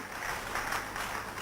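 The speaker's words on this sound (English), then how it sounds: "So big round of applause for Professor Manish Biyani" Audience at an international conference at Biyani College applauds in a steady wash of many hands clapping together, moderately loud and continuous throughout, with no talking over it.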